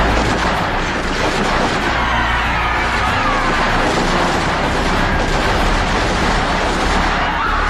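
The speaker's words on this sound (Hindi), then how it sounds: "Soldiers fire!" Staged gunfire from soldiers in a students' Independence Day patriotic skit: loud, dense cracks and booms fill the whole stretch as continuous, crowded bursts.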